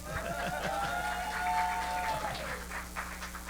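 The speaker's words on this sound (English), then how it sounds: "Round of applause, please." Audience applause at a 2020 primaries candidate forum greets a Libertarian U.S. Senate candidate, a steady wash of clapping lasting a few seconds over a low hum, with a brief tonal sound in the middle.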